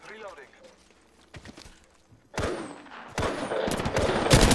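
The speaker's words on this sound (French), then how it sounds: "Je vais tirer dessus." Gunfire in the video game Apex Legends: rapid bursts of automatic shots crack out in the second half, loud and dense after a quieter start where players talk.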